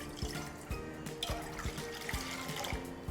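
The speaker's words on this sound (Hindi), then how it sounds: "इसके अंदर सबसे पहले हम डालेंगे पानी।" Water runs into a pan as the base for a sweet fasting (vrat) chutney, a steady close splashing pour with repeated soft gurgles and no voices.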